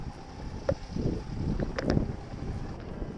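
Wind buffets a moving sailboat as the breeze steadies and strengthens, a continuous low rushing roar with gusty swells and a few brief knocks from the boat, no talking.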